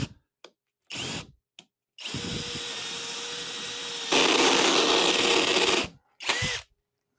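A HyperTough 12-volt brushless cordless drill fires a few brief clicks and short bursts, then runs in a long steady whir that rises to a higher, louder pitch partway through, followed by one more quick burst; no talking.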